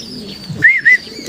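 Pigeon cooing close by on its return home to the loft, two short, clear rising coos in quick succession over a quiet background.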